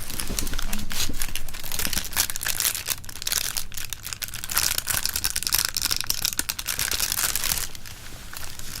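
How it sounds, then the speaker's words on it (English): Paper crinkled, smoothed and scrunched near the microphone for ASMR, producing a dense, steady crackling rustle that runs throughout with brief louder crunches and no speech. "crinkling sounds."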